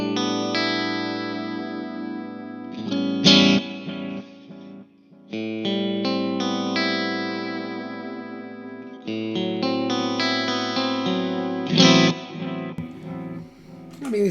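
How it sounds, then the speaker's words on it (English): Electric guitar played through a Mesa Dual Rectifier amp with reverb and delay pedals in the effects loop, sustained chords trailing into echoing repeats and washy tails, loud and alone, no talking. "this is now reverb and delay in the loop"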